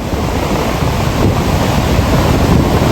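Ocean surf on a Goa beach rolls in a steady, loud roar, with heavy wind buffeting the microphone throughout and no voices.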